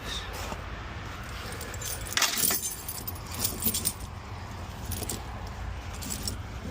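Slightly rusty metal snow chains for a truck are handled close by, producing a loose jangling clatter of links that rises in a brief louder rattle midway, then continues softly.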